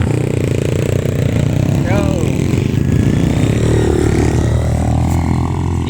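A Kawasaki KX85 dirt bike engine runs loud and close with a steady rasping drone, rising and falling slightly as it is revved, while people talk over it.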